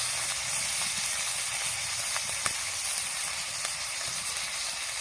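Chopped tomato sizzling in hot oil in a frying pan while a spicy freshwater snail curry is cooked, a steady close hiss with a few small pops throughout.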